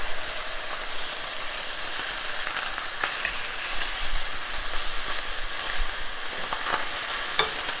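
Pork chops frying in a pan, a steady broadband sizzle that holds for the whole stretch with faint pops and crackles, close and even, no talking.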